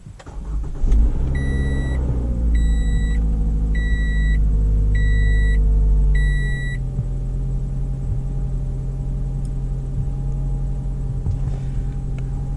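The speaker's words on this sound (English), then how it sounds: "Let's start the car." A car engine cranks and catches, idling roughly with a loud low rumble and a series of warning beeps as it starts, then settles into a steady, quieter idle.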